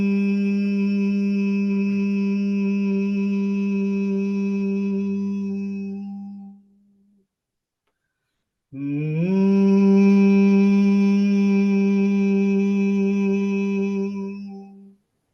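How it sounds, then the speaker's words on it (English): A person hums deeply and continuously in a long steady drone, breaks off briefly for a breath, then resumes the same sustained low hum for several more seconds, alone and close. "take a deep breath, and then hum deeply and intensely without stopping"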